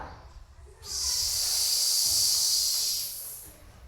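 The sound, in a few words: child imitating a snake hiss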